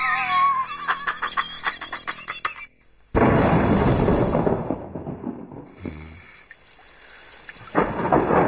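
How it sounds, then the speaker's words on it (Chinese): A thunderstorm breaks with a sudden loud crack and long rolling rumble of thunder over steady rain, preceded by light staccato sounds and fading into rainfall. "我怕打雷"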